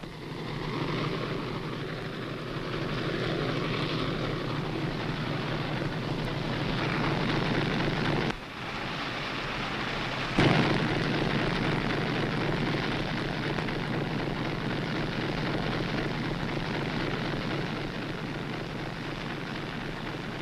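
Steady, loud engine drone aboard the Casabianca submarine, a continuous low rumble filling the whole stretch, broken by a brief dip and a sharp knock partway through, with no talk over it.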